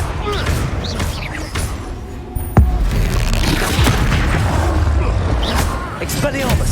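Confringo blasting spell in Hogwarts Legacy, a sharp thumping boom midway through a busy magical duel, with other low thuds and clatter around it and a voice calling spells.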